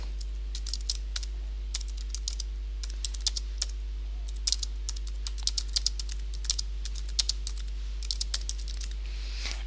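Steady, quick keystrokes on a computer keyboard as a reply message is typed, light clicky taps close to the mic over a constant low hum, with no talking.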